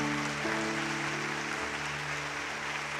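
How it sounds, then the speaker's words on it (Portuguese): Congregation at a Catholic worship gathering giving a round of applause for the Virgin Mary, steady dense clapping filling the space over sustained music, with no speech. "Uma salva de palmas para a Virgem Maria"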